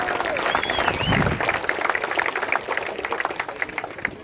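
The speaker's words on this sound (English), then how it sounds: "Can we please get a round of applause for Mr." Crowd applause at an Australia Day rally in Perth, a loud outdoor wash of clapping and cheering that tapers off over a few seconds, with a faint whistle near the start.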